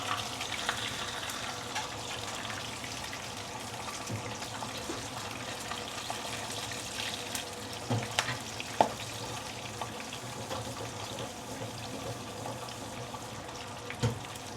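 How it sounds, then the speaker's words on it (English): Fish frying in oil in a pan gives a steady, close sizzle throughout, with a few sharp pops as the fish eyes burst. "What exploded just now is actually the fish eyes."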